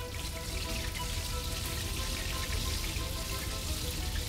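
Boiled, peeled potatoes frying alongside schnitzel in a pan, a steady dense sizzle and crackle of hot fat throughout with no talking.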